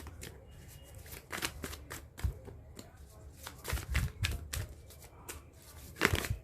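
Cards are shuffled in quick, soft riffling bursts with short pauses between, close by and fairly quiet, with a faint background hum.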